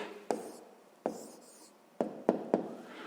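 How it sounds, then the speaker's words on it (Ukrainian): Handwriting an answer with pen on paper, a few short scratchy strokes in an irregular rhythm, quiet and close with pauses between. "Ну що ж, ми дізналися, записуємо відповідь."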